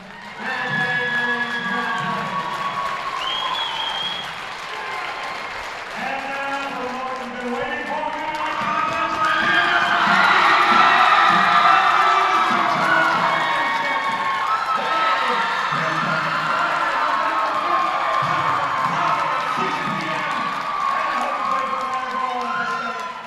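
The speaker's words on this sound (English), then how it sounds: "the cheering section comes out on the floor as well" A volleyball crowd's cheering section at a high school sectional final trophy presentation, with cheers and shouts swelling in the middle of a large gym, a commentator's voice talking over it.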